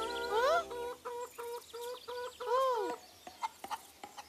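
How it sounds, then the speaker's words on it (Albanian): A cartoon mother hen clucks in a series of short rhythmic squawking calls, with a couple of rising and falling cries at the start and middle, followed by a few sharp scattered clicks. "Çfarë kërkon ti nëna pul,"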